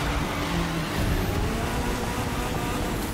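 In The Crew 2, a car's tires spin on snow, giving a dense, steady roar of engine and wheelspin that stays loud and continuous throughout, with no voices.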